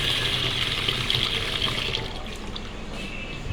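Water pouring steadily into a pot of 1.5 cups of rice to soak and wash it, a continuous close splashing rush that eases slightly toward the end.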